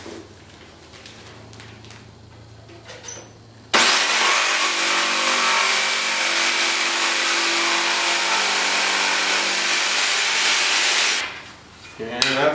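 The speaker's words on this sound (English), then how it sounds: "did some of the finishing cuts with a little jigsaw, and we'll go ahead and finish with this one here." A jigsaw makes a finishing cut in a wooden windowsill for an onyx shower installation, a loud, steady, close buzzing drone running about seven seconds after brief handling noise, then stopping with clattering.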